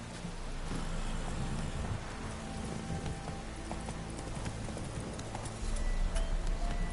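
Roach the horse gallops through rain in The Witcher 3, with rapid hoofbeats over a steady wash of rainfall at moderate volume, no talk.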